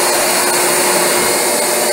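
A Rug Doctor carpet cleaning machine runs with a steady, loud motor whine and broadband suction rush that holds constant throughout, with no voices over it.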